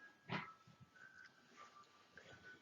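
A dog, female, gives a short whimpering yip up close followed by faint whines, a brief call in otherwise quiet surroundings.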